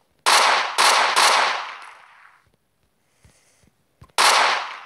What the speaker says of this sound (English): Let's try the AK-47. Let's go fire.